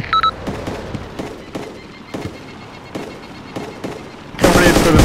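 Gunfire in the military shooter ARMA 2: Operation Arrowhead, with single sharp shots cracking at a steady, spaced rhythm, followed at the end by a sudden loud, rumbling blast.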